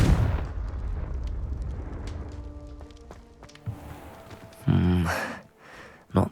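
A Confringo blasting spell explodes in the video game Hogwarts Legacy, a loud low rumbling burst at the start that fades under game sounds, followed by a later thump and brief clatter.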